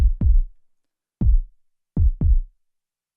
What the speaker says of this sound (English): you've got this thumping heartbeat sound